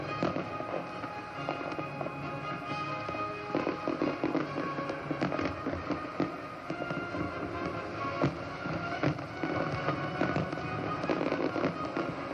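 Continuous crackling and popping of fireworks over a harbour at an Australian naval review, dense rapid bursts and bangs overlapping throughout, heard from a distance with a steady roar of crowd and air.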